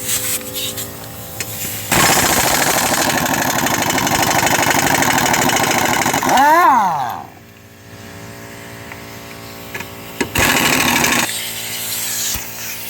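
A power tool loosens lug nuts on a 2016 Nissan Versa wheel during a rear wheel bearing job, with loud, sustained mechanical hammering bursts close up, then a pitch sweep as it winds down, and a second burst after a pause.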